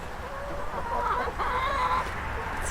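Hens scratch around a garden eating pepper seeds, giving off soft, intermittent clucks and murmuring calls close by over a steady outdoor background.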